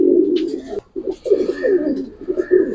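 Racer pigeons at a pigeon farm give low, rolling coos in short repeated bursts, close and fairly soft, with a brief pause midway.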